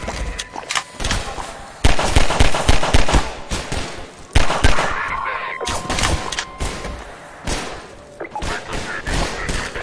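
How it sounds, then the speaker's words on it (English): Gunfire aimed at the player in the Half-Life 2 video game: rapid, loud bursts of shots cracking in irregular volleys, with short pauses between the clusters. "I'm being shot at."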